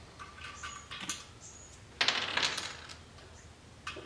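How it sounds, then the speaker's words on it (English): A valve stem and washer are fitted into the valve hole of a Honda Africa Twin motorcycle rim during a tubeless conversion. A few faint, close metallic clicks and small clinks come through, the clearest bunched at the middle, in a quiet room. "I'm going to take this valve stem, I'm going to install it in the valve stem hole, put the washer on"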